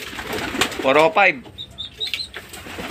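Racing pigeons taking off, wings clapping and flapping loudly close by in a short burst, followed by soft calls and faint chirps as someone talks briefly.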